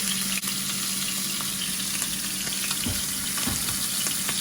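Pork steaks fry in a very hot pan, giving a loud, even sizzle that crackles and spits steadily up close, with a few faint knocks from the pan and no voices.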